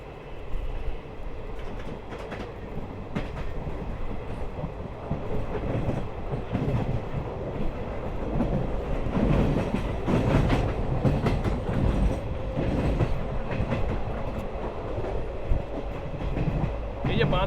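Dhano Dhanye Express passenger train rolling along the rails between Naihati and Ranaghat, heard from aboard as a constant loud rumble with clickety-clack wheel beats and faint squeals, a voice speaking now and then.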